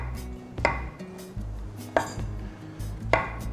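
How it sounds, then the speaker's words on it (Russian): A kitchen knife slices champignon mushrooms into small slices on a cutting board, producing three sharp, evenly spaced chops with quieter handling sounds between them, close and clear without speech. "Шампиньоны нарезаем небольшими слайсами."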